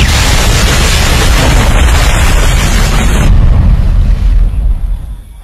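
A bomb detonates in the film Triple Threat: a loud, dense roar of explosion that fills the first three seconds, then drops away into a rumbling, fading tail.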